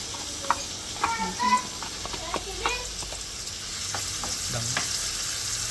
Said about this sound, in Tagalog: So, habang may ilulusaw natin yan, sama ko na yung bawang